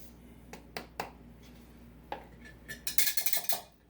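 Spoon clinks against a bowl while sugar is mixed into cornstarch: a few sharp taps spaced apart, then a quicker run of bright scraping clinks near the end, close and clear with no talking.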